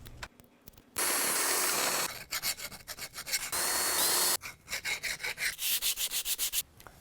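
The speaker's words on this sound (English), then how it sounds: "the final part of the project was deburring, lots of deburring, and cleanup" Metal vise parts being deburred by hand, a gritty rubbing and filing sound in stretches, some long steady passes and some quick rhythmic strokes, close and fairly loud, with no talking.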